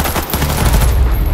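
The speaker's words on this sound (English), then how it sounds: "I'm going to use an assault rifle this time." Rapid assault rifle fire in a video game boss fight, a dense, continuous burst of loud gunshots filling the whole moment with no pauses.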